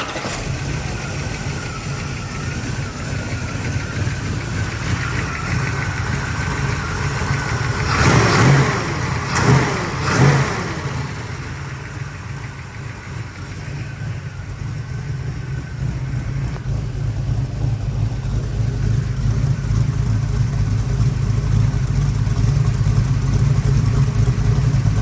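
Rebuilt car engine with a new camshaft firing up and settling into a steady idle, a few sharp revs blipping around the middle, then a continuous running hum close to the mic.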